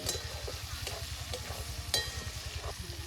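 A pan sizzles and crackles steadily as spices fry in a kadai. A rapid rhythmic clatter runs underneath, with occasional sharp clinks over the top.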